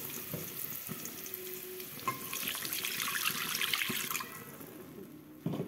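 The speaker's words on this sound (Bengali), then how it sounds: "জল দিয়ে দিব।" Water poured into a pan of frying potatoes seasoned with salt and turmeric, a steady rushing splash and hiss that swells over a few seconds, with clinks of utensils near the start and end.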